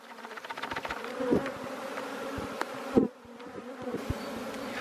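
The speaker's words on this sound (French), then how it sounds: "on verse les abeilles dans la ruche, sans aller trop vite" Steady buzzing from a honeybee swarm being poured into a hive fills the clip, a dense droning hum with a few soft knocks and bumps scattered through it.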